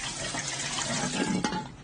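Water pours into a pressure cooker set up for cooking meat, a steady splashing fill heard close and alone, with a brief sharp knock near the end.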